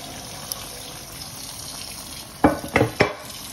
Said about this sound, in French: Voilà, vous voyez, j'ajoute de l'eau